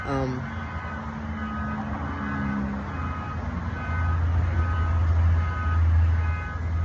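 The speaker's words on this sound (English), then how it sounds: "that was a tow truck right there" A tow truck reverses, its regular backup beeps pulsing over a low idling engine rumble that grows louder toward the end, with a person talking over it.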